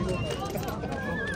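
A male colt at a horse sale, with hoof and horse sounds buried in constant loud chatter from people talking nearby.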